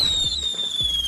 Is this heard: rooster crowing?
no